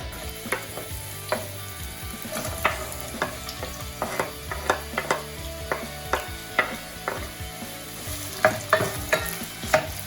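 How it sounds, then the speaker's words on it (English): Sliced onions fry in melted coconut oil with a soft, steady sizzle. Frequent sharp clicks and scrapes of a stirring utensil against the pan cut through, and no one speaks. "So I'll let the onions saute or fry quickly"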